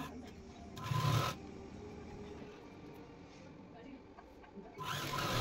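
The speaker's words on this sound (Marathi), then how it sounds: "आता या पद्धतीने आपण शिलाई मारत जाणार आहोत।" A sewing machine stitches a gown hem, with a short burst of mechanical whirring near the start and another at the end, between quieter stretches of low background noise.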